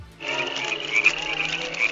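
Frogs croak loudly and close up, a dense rattling chorus that starts abruptly and carries on without a break.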